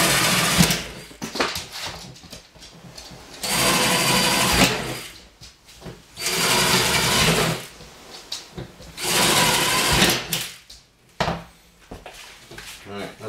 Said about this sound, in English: I'm going to put a few more holes in this one